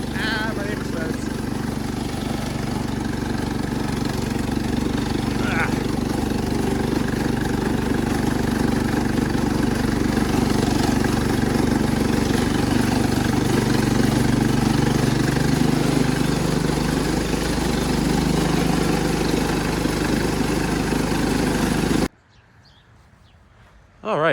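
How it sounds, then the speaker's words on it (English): A Cub Cadet 1250 hydrostatic garden tractor engine running steadily nearby, with a loud continuous mid-low drone and faint mechanical rattle. It cuts off abruptly near the end. "That is really fast for a hydro tractor."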